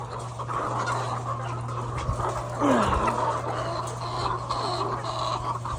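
Chickens on a rural farm raising ready-to-lay hens, with clucking and fowl calls over a constant low electrical hum, one louder rising call in the middle and no speech.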